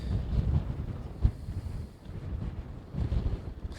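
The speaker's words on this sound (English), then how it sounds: "Every once in a while, though, you'll have a big wind gust" Wind from Hurricane Beryl buffeting an open microphone near Port Lavaca, Texas, in heavy low rumbling gusts that swell and ease, loud and close throughout.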